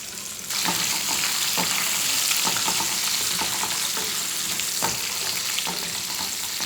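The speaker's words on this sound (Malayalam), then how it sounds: "ഈ വെളുത്തുള്ളി നന്നായിട്ടൊന്ന് വഴന്ന് കിട്ടിക്കഴിഞ്ഞ് ഒന്ന് ബ്രൗൺ ആവണം" Garlic fries in hot oil for a tomato pickle, a loud steady sizzle with occasional stirring scrapes running continuously throughout.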